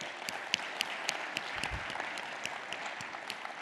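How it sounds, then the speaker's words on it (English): Audience applause at a conference keynote, steady distant clapping from a crowd with scattered sharper claps standing out, fairly quiet throughout. "Let's give our sponsors a round of applause"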